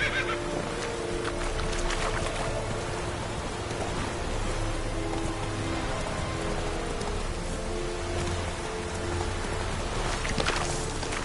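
Roach, a horse in the video game The Witcher 3, whinnies under steady rain pattering on the ground. The neigh rises from a constant wash of rainfall, with no voices.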